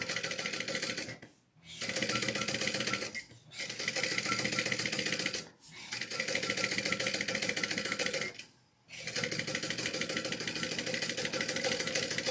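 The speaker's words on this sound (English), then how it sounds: "Now I'm going to top stitch this one down." A sewing machine runs in steady, rapid bursts while top stitching fabric for a retro duffle bag, its loud mechanical whir stopping briefly four times between runs, with no voices.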